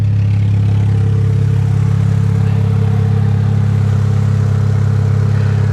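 A Jaguar XF engine idles steadily with a low, even rumble and faint clatter, close by and continuous with no talking.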